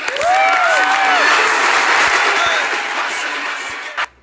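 Studio audience and housemates applaud Dhanraj on the Bigg Boss 11 stage, a loud, dense clapping that swells at once, holds steady, then tapers and cuts off.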